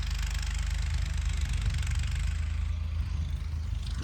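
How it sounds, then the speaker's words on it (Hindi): A tractor engine runs steadily in a field during mustard sowing, a constant low idling rumble with faint mechanical knock, close and unbroken throughout with no voices. "ट्रैक्टर उस खेत में चल रहा है जो कि पहले हम जहाँ पर हमने बोया था।"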